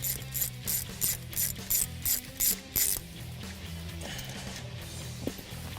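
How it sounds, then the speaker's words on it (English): A hand ratchet clicks in quick repeated strokes while removing a top engine bolt on a 2015-2017 Mustang GT during a Roush supercharger install, then gives way to quieter mechanical fiddling. "We're going to start by removing this top bolt right here."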